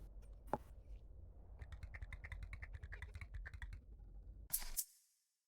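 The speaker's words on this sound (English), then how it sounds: "When this character talks, like makes little clicky sounds with the dialogue." Rapid clicky blips play as a character's dialogue appears in the video game Laika: Aged Through Blood, a dense run of quick ticks lasting about two seconds. A sharp, louder burst follows near the end, with no voices.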